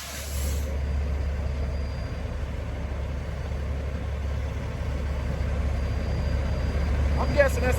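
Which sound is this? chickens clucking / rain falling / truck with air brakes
truck with air brakes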